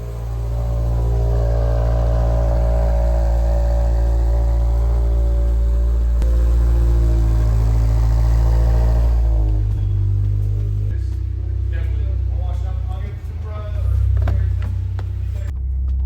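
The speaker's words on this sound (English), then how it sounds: "We're about to go take it for its first test drive, see for any clunks or binding or anything like that." A 2022 Subaru BRZ with newly installed Whiteline sway bars drives on a test run, its engine a steady loud drone from inside the cabin, with the note shifting as it changes speed toward the end.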